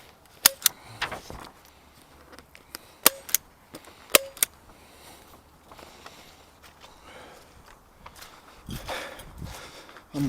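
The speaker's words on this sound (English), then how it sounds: "I'm using high recoil buckshot with the 20 gauge and low recoil with the 12" Sharp cracks from a Mossberg Shockwave and a Remington TAC-14 shotgun, 12 and 20 gauge, firing buckshot. The blasts come in pairs and singles, spaced over several seconds against a faint outdoor background.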